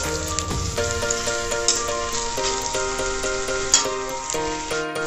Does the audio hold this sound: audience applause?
no